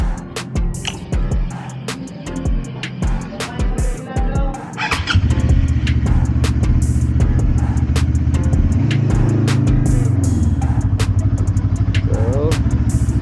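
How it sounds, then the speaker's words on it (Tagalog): A Cyclone 400 motorcycle engine starts up and settles into a steady, loud idle rumble, with clicks and mechanical noise before it catches, close by. "So, yan yung tunog ng Cyclone 400."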